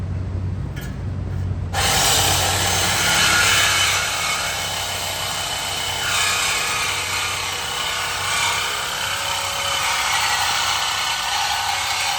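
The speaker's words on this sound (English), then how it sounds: "getting pretty serious with a sawzall" Sawzall reciprocating saw cutting on a 6.0 Powerstroke truck starts abruptly and runs as a loud, close, continuous buzzing rasp with slight surges in intensity, no talking.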